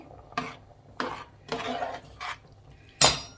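A spoon mixing cauliflower biryani in a pot knocks and scrapes about five times in an uneven rhythm, close and fairly quiet, with the last stroke the loudest.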